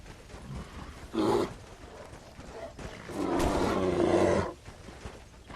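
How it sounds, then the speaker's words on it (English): A bear in the video game Red Dead Redemption lets out a short growl and then a long, loud, rumbling roar lasting over a second, heard over a steady game background. "it's to slay a bear with nothing but your knife"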